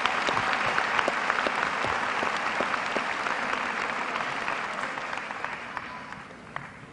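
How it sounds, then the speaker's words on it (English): Auditorium applause from the audience at a high school graduation commencement ceremony honoring teachers and staff, a full steady roar of many clapping hands with scattered sharper claps, gradually easing off. "Finally, let's give a round of applause to your teachers, counselors, principals, and support staff"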